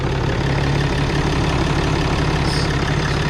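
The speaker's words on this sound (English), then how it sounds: "All right, so here it is at idle. You just hear that Cummins." A 2017 Ram 3500 Cummins diesel with a Banks air intake idles up close, a loud, steady low rumble with a faint knocking clatter running evenly throughout.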